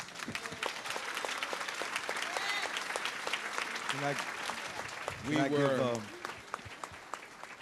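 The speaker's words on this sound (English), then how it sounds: "Please give all of our panelists a round of applause." An audience at a national gentrification summit conference applauds the panelists, a steady, dense clapping that runs throughout with a few voices briefly rising over it.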